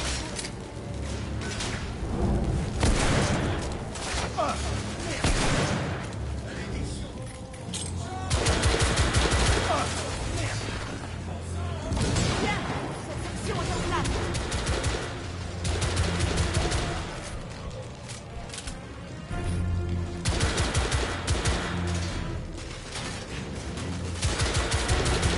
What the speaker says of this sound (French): Oh là, le son de cette arme.